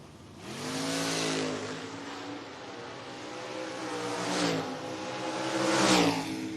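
A 1968 Camaro and a Mustang launch off the line at a footbrake drag race, engines revving hard and climbing in pitch as they accelerate away, the roar heard from a distance with renewed surges later.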